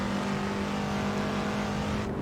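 An Aston Martin race car in a video game drones down the front straight, its engine a steady, loud, even hum with no clear shifts, alone without voices.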